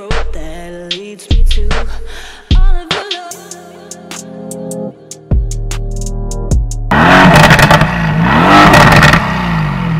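Porsche 992 Carrera GTS and Mercedes GT in a drag race: loud engines rev and bark, pulling up through several gear changes with sharp shift breaks, ending in a sustained roaring, rising wail.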